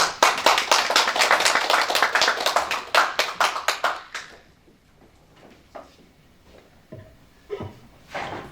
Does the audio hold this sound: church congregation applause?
yes